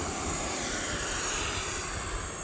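A radio-controlled jet aircraft running on a 6300 LiPo pack makes a steady, loud whooshing roar as it flies, continuous and unbroken throughout.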